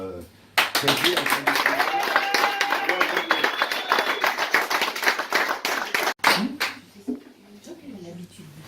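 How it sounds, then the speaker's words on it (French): Studio audience applause breaks out during a live acoustic radio session, dense clapping sustained for several seconds before tapering off, with a voice speaking over the end. "sous les applaudissements"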